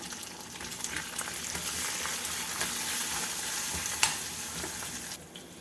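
Tamarind and asafoetida fry in a pan with chillies for ridge gourd chutney, a loud continuous sizzle with stirring scrapes and one sharp clink near the end.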